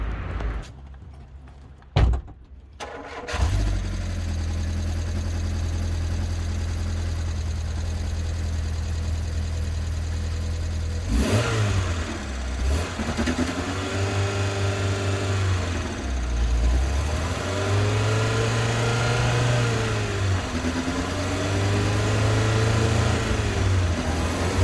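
A Rover 400 car's engine runs steadily as the car is moved slowly around a yard, with a few sharp knocks at the start and the engine note rising and falling with gentle acceleration, close and fairly loud.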